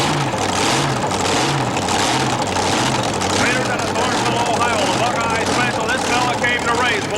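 A modified pulling tractor with weight shifted onto its nose revs at a 1987 tractor pull in Louisville, Kentucky, a loud throbbing engine pulsing rhythmically while an announcer talks over it.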